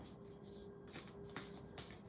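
Tarot cards being shuffled by hand, a soft continuous rubbing and riffling with short louder flicks as the deck is worked, close and fairly quiet with no voice.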